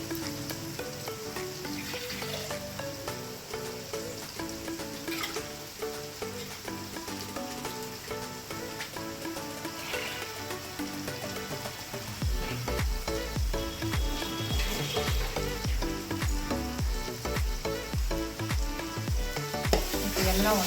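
Garlic paste sautéing in a pan for a Tamil kara kuzhambu sizzles steadily and loudly, a dense crackling fry that never lets up and swells a little fuller partway through, with no voices.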